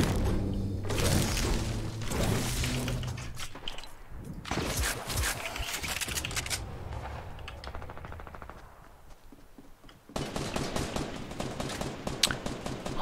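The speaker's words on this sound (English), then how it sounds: "Who are you shooting at?" Bursts of automatic gunfire and booming shots from a battle royale video game, loud and dense with rapid repeated cracks, broken by a quieter stretch before heavy firing resumes.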